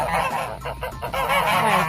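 A goose honks repeatedly, loud harsh nasal calls stacked close together, the bird near and clear with no voices over it.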